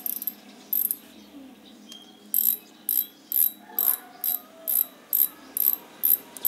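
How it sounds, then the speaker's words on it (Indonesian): A Fugu Eiji fishing reel's spool clicker ratchets in close, crisp bursts, a few scattered clicks giving way to a regular run of about ten sharp ratcheting spurts. "Bisa kalian dengar suara clickernya nyaring sekali guys."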